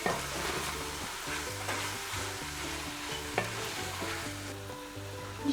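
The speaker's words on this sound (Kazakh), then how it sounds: "Жақсылап араластырамыз, тегіс қуырылатындай." Carrots frying in a hot pan with spices, stirred steadily: a continuous close sizzle with scraping stir strokes over a soft tonal background, no talking.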